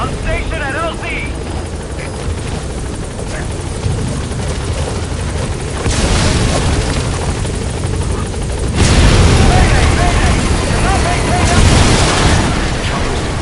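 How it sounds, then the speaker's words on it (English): A helicopter in the video game Metal Gear Solid V arrives at a landing zone, its loud rotor thrum building steadily and swelling louder toward the end, with voices talking over it. "Chopper's defenseless while he's coming in the land."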